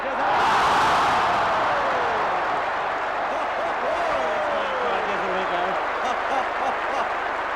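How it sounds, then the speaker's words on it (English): A football crowd at a Carlton versus St Kilda match applauds in a sustained wash of clapping and cheering, with a commentator talking over it. "You can hear the applause from the crowd"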